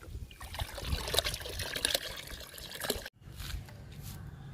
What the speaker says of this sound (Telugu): ఇప్పుడు ఈ లిక్విడ్ తీసుకెళ్ళి మనం పండ్ల మొక్కలకి ఇచ్చేద్దాము